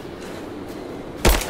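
A single loud, sharp gunshot rings out near the end in Rise of the Tomb Raider, fired while hunting rabbits, after a stretch of quiet ambient background.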